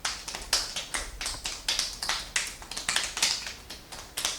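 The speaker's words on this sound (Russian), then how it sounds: "Шлепаем, всю ножку, всю подошву, всю стопу" Palms slap the soles of the feet in a foot warm-up exercise, a quick, steady series of sharp, close slaps with no talking.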